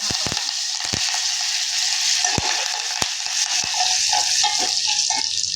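Dry chillies, mustard seeds, cumin and curry leaves crackle and sizzle in hot oil for a masala dosa tempering, a steady bright frying hiss with sharp pops and spatters throughout, no voices.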